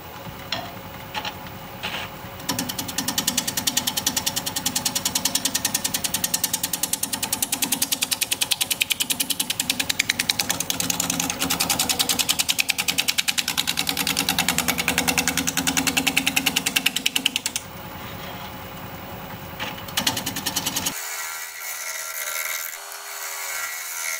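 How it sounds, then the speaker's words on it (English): A wood lathe turns a bowl at 650 RPM while a 5/8 inch bowl gouge cuts, giving a loud, steady rhythmic scraping and whirring that runs for about twenty seconds, then stops to a low motor hum. "Going to be using a 5/8 inch bowl gouge. Going to be turning at 650 RPM"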